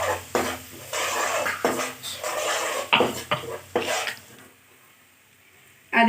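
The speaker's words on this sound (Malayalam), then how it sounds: "ഇത് നന്നായി ഒന്ന് വഴറ്റിയതുകൊണ്ട് ഒന്ന് ഇളക്കി കൊടുക്കുക." Ginger garlic paste stirred in a pan, with close spoon scrapes and clinks against the metal and a faint sizzle, coming in bursts before quieting near the end.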